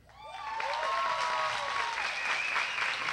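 Audience at a tribute concert applauding, clapping swelling in quickly and holding steady, with a few voices cheering and singing tones ringing out over it.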